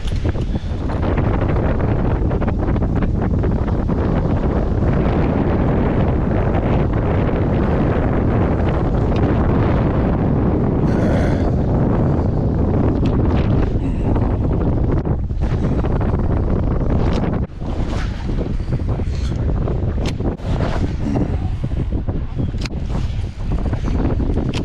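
Strong wind buffets the microphone on a Hobie Pro Angler kayak out on the water, a loud, continuous rumbling roar with gusty surges.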